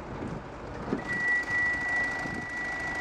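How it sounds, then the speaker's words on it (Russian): Open-hood warning chime from a 2013 Hyundai Santa Fe, a steady thin electronic tone coming and going in short repeated stretches over a low, noisy interior background. "Это что за звук? Открытый капот,"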